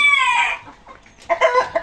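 A chicken gives a drawn-out, rising squawk followed by a short burst of quick, close clucks, with a brief quiet gap between them.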